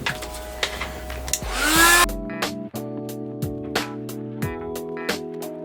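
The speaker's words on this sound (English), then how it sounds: "So first of all, we're just going to heat the midsole, then we're going to heat here" A hot air tool heats the midsole of a 2001 Nike Air Max 90 Infrared sneaker during a sole swap, blowing with a loud, rising whoosh for about two seconds before cutting off, leaving light handling clicks and taps.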